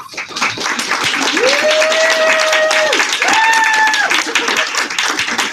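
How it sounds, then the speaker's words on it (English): A crowd at a director's debut event claps for a family asked to stand, a steady, fairly loud wash of hands with a sustained sung or hummed tone rising over it. "We want to give you guys all a huge round of applause"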